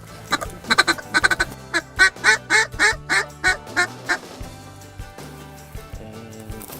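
Ducks on a coastal hunt quack in a quick run of loud, close, evenly spaced calls, about a dozen in a row, over a faint low background hum.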